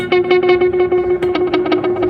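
A Strymon delay pedal set to emulate Space Echo tape repeats, with heads 1, 3 and 4 in use, gives dense, loud, pulsing echoes that stack and interact continuously.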